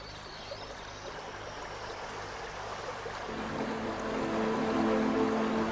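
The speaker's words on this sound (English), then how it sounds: "They build their nest in a safe place behind a small waterfall, far from prying eyes." Water from a small waterfall where dippers nest pours steadily in a broad, even rush that grows slightly fuller and louder toward the end, with no voices present.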